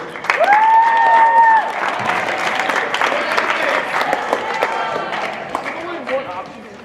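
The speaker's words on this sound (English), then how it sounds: "And one last round of applause for all of your state participants in spring sports." Applause from a school assembly audience for state-level spring sports participants, a steady loud clapping wash with whoops and scattered cheers lasting the whole stretch, easing slightly after the first second and a half.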